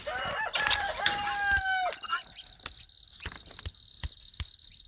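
Chickens cluck and call in short, close, pitched bursts for about two seconds, then fall quiet under a steady high insect drone with scattered clicks.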